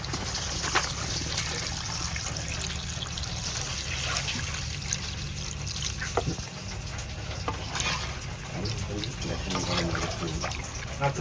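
Water poured into a cooking pot of fried spice masala at an outdoor village picnic, a continuous splashing, trickling rush with bubbling and clattering, fairly loud and close, with no talking.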